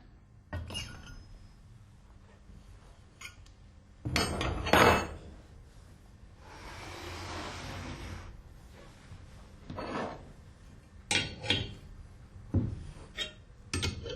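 Metal parts of an Alfa Laval Unique seat clean valve clank and clink as the valve body is lifted out during disassembly, a few sharp knocks spread over time with a brief hiss of air in between.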